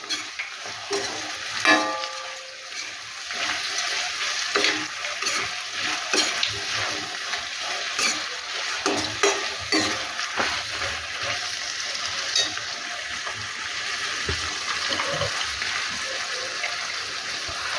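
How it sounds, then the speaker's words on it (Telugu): Onion and capsicum pieces fry in a pan for pav bhaji with a soft, steady sizzle and hiss. Irregular stirring scrapes and clinks sound close by, and no one talks. "ఉల్లిపాయ ముక్కలు, క్యాప్సికం ముక్కలు వేస్తామండి. ఇవి కూడా లైట్గా వేగాలి."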